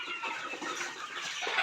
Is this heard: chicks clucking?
yes